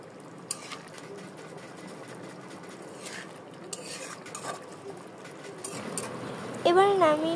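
Curry of potatoes and eggs being stirred in a pan, with light scraping and clinks of a utensil against the pan, soft and intermittent, under a faint voice; a louder scrape near the end.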